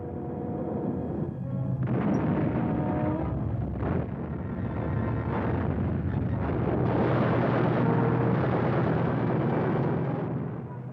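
German flak anti-aircraft gun firing at approaching Dornier bombers, heavy booms and rumbling blasts rolling through a continuous roar over about eleven seconds, recorded rough and loud.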